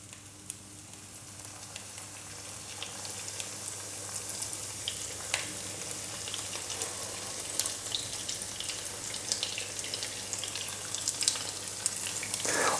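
Breadcrumbed parmesan chicken frying in oil in a large pan over medium heat, a soft crackling sizzle that builds gradually with scattered pops and spits.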